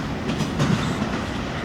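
A freight train rolls past at close range near Glendale, its wheels keeping up a steady rumbling clatter with faint rail clicks throughout.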